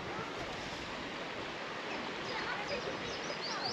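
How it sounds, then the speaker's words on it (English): A waterfall in the Brecon Beacons gives a steady, broadband roar of rushing water, constant and fairly close, with no break through the whole stretch. "So this is the next waterfall of the day."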